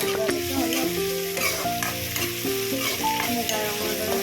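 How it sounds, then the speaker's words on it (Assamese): Garlic with ginger frying in a pan, a continuous bright sizzle with stirring, close and fairly loud, alongside steady tonal background music and no speech. "দেখিছে মই ভাজি আছোঁ নহৰু নোযোৱালৈকে।"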